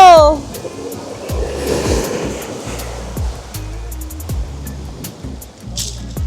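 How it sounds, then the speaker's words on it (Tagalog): Large ocean waves crash and wash in a loud, rolling surge, with water hissing nearby and brief voices under the roar. "Super laki ng alon."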